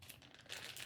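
Plastic bag of udon noodles cut open in a kitchen, giving a quiet crinkling rustle that grows a little louder near the end, with no talking.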